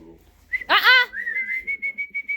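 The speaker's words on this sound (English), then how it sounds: "Quit whistling at her." A human whistle at a Boxer-Pit Bull mix dog: a sharp rising note, then a steady tone broken into a quick series of short repeated pulses, clear and close, with a brief vocal burst in the middle.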